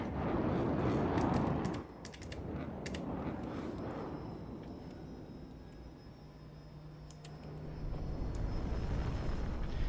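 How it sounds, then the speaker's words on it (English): Main gun on a spaceship in Star Citizen fires in a few sharp bursts early on, over a loud, steady engine drone that dips and then swells again. "So fire off the main gun there."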